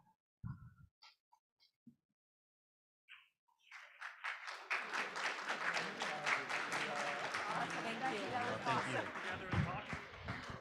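Audience applause at a conference, starting after a few seconds of scattered taps and brief speech, then swelling into steady, full clapping from a large crowd that continues to the end.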